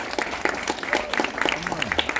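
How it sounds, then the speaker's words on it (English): Audience clapping at a film festival screening in Toronto, a scattered round of applause with individual claps audible, moderately loud, and a voice partly overlapping it. "Oh yeah, you can applaud."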